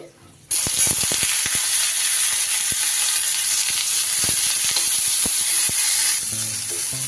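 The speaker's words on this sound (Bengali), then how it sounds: "ফুলকপিটা দিয়ে মিনিট দুয়েক একটু নাড়াচাড়া করে নেব" Cauliflower pieces dropped into hot mustard oil in a wok, a sudden loud sizzle after a quiet start, then steady crackling frying with sharp pops and stirring clicks.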